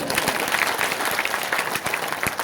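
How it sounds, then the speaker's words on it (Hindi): Audience clapping at an Indian Inclusive Party political gathering in Madhubani, a dense, steady patter of many hands filling the whole stretch, loud and close, with no talk over it. "एक ये ताली बजा रहे हैं"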